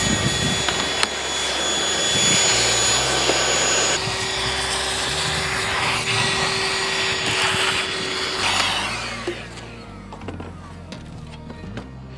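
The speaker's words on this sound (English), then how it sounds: "just gotta vacuum everything" A vacuum cleaner whines steadily while cleaning the window channel of an old Ford bumpside truck that sat in the desert for decades, its pitch shifting as the nozzle moves, then winding down at the end.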